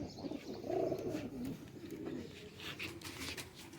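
Soft, low cooing from young Golden Ferozpuri pigeons close by, a continuous burbling murmur with faint background noise and a few higher chirps.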